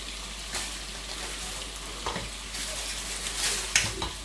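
Food sizzles steadily in a covered pan over low heat on a home stove, a soft constant frying hiss broken by a few light clinks and stirring sounds.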